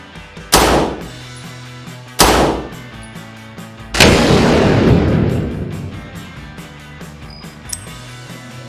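A stock-barrel Glock 17 pistol fires Super Vel solid copper hollow point rounds: three loud, sharp shots spaced a second or two apart, the last ringing out with a long reverberant tail.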